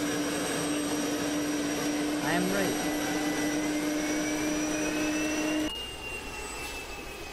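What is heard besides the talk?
modded helicopter engine in video game Arma 2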